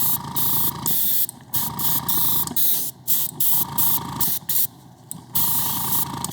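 Thinned flat black acrylic paint sprays onto a cast mask in a series of close, hissing bursts, some short and some longer, separated by brief pauses.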